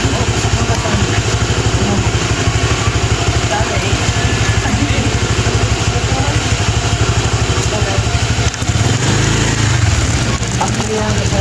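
A motorcycle engine idles steadily and loudly close by, a constant throbbing drone that shifts slightly near the end.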